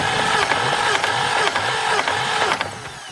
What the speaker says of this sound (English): Just turn the key on to start and let's see if it works.